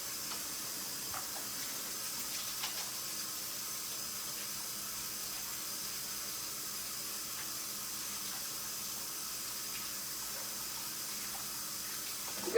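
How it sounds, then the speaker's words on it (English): Water from a running kitchen tap hisses steadily and evenly for over twelve seconds while hands are washed clean of pepper juice during sourdough baking, with no voices. "I can wash my hands now,"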